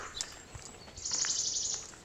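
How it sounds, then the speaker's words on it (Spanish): Birds chirping and singing outdoors in a few short, fairly faint calls over a light background hiss, with no talking. "que si les escucho los pájaros, pero totalmente"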